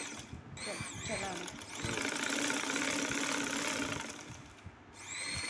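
A sewing machine stitching a seam around fabric for a skirt runs in a steady, fairly quiet mechanical whir, pausing briefly near the start and end, with someone talking over it.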